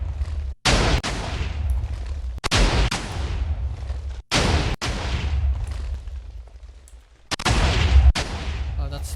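A Minecraft TNT cannon loaded with roughly 2,500 sand blocks per shot fires in heavy booming blasts, four loud explosive bursts spaced a couple of seconds apart, each trailing into a rumbling wash of noise.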